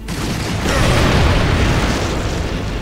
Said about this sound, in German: Explosionen sind immer gut, kommen auch recht spektakulär.